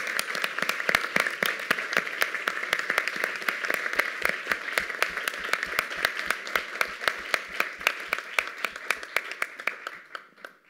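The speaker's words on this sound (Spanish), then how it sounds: "vaya un gran aplauso para esos fotógrafos, fotógrafas y trabajadores" An audience at a film screening applauding, a thick round of many hands with sharp individual claps standing out, steady and lively before thinning out and fading near the end.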